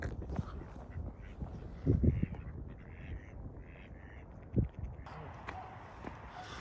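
A duck quacks outdoors in a few short, separate bursts over quiet background noise, with faint scuffing sounds in between.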